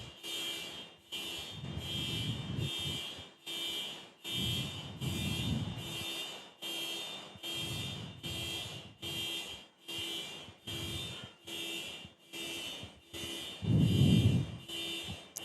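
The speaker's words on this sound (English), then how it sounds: "Someone's car alarm's going off." A car alarm sounds near Brisbane Airport with a rapid, regular pulsing pattern of evenly spaced beeps that runs throughout. It is heard from a moderate distance, with occasional low traffic or engine rumble beneath it and no voices.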